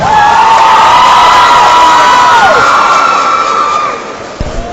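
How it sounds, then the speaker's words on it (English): Crowd cheering and applause in a gym at a Lafayette vs Tanner high school basketball game, loud and sustained with whoops and kids shouting, a steady tone sounding over it before the noise fades. "Let's give them a big round of applause."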